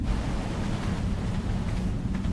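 Waterfall in the Ragnarok video game, a steady dense rushing roar of falling water, continuous and fairly close with no voices.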